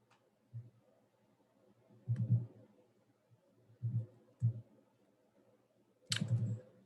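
Keyboard keys tapped in short, soft clusters of clicks with pauses between bursts, close and quiet in a still room.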